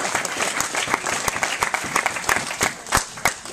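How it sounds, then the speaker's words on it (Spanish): An audience bursts into dense, continuous applause, with many hands clapping together at close range and filling the whole stretch without any speech. "Démosle un aplauso nuevamente a Jerome"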